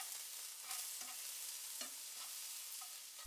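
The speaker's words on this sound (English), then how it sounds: "Thoroughly stir the garlic through the eggplant." Garlic being stirred through eggplant frying in a pan, a steady close sizzle with soft scraping strokes of the stirring at intervals, and no talk.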